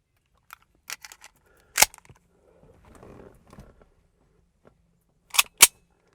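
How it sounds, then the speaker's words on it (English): Sharp, loud gunshots as G9 external hollow point rounds are fired through car window glass at a steep angle, scattered cracks with a pair close together near the end and faint handling noise between. "Three rounds of the G9 external hollow point."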